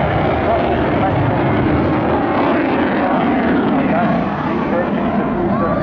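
A Typhoon FGR4 fighter jet banks through a hard high-g turn at the Eastbourne airshow, its engines a loud continuous roar that stays dense and unbroken throughout, with faint crowd or commentary sound mixed underneath.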